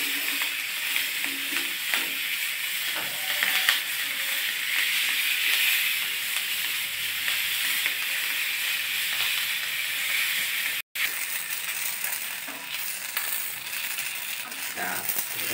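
Bananas grill in a pan over low heat for a Bukittinggi-style coconut-milk dish, giving a steady, even sizzle and hiss throughout with occasional light scraping, near and continuous.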